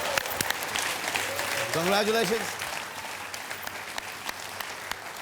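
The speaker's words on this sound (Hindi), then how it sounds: "तालियां, सुपर," A studio audience on the Dus Ka Dum game show claps in a broad, steady wash after a song, while a voice briefly sings and a short spoken word cuts through near the start.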